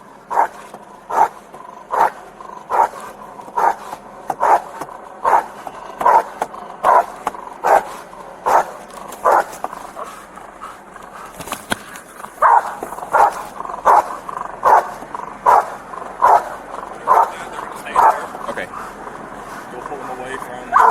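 A police dog barks repeatedly at a tense armed traffic stop, with sharp, evenly spaced barks that keep a steady rhythm throughout, loud and close, and a brief pause near the middle.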